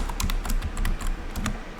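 Quick, irregular clicks of typing on a computer keyboard while coding a beginner video game. The keystrokes are fairly soft, close and alone, coming in short bursts with small pauses between them.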